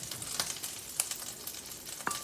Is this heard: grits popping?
yes